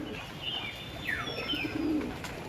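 Teddy pigeons coo softly in a loft, several short, gentle coos and faint chirps at close range over a quiet background, with no talk.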